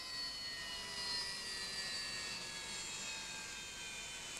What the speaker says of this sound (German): Die Militärflugzeuge, vor allem Phantoms und Alpha-Jets, neuerdings auch Tornados.